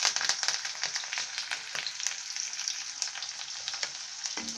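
Finely chopped onion and a sprig of curry leaves frying in hot oil, a close, bright sizzle with frequent popping crackles and a few stirring scrapes, steady and alone without voices.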